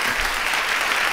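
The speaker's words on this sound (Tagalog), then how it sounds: "Palakpak!" Applause from an audience: a brief, dense burst of many hands clapping together, steady and fairly loud for about a second.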